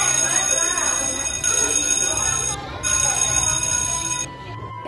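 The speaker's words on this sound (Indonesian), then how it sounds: "Tak lama bel masuk kelas berbunyi" An electronic school bell calling students to class sounds in sustained, steady tones that cut out briefly and then return, with voices underneath.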